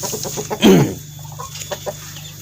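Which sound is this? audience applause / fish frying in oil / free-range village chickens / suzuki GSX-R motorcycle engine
free-range village chickens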